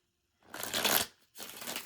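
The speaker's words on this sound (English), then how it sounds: "I'll shuffle it in front of you." Tarot cards shuffled by hand in two close bursts, a longer crisp riffling flutter followed by a brief pause and a second shorter run, with no voice.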